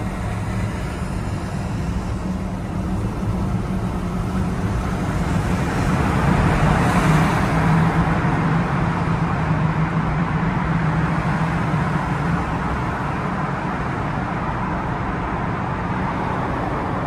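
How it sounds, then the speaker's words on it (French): Dense Paris road traffic, with motorbikes and scooters filtering between lanes, makes a steady, loud roar of engines and tyres that swells slightly in the middle and then holds level to the end. "Mais regardez l'interfile des 2 roues maintenant."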